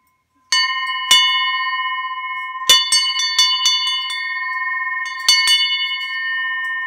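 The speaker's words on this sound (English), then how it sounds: "It's a large, heavy bell that would be great inside or outside your home." Vintage fog bell of the school-bell type, large and heavy, struck several times, each clear metallic ring sustaining a long bright tone that overlaps the next strike.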